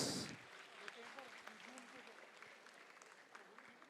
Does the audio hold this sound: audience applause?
yes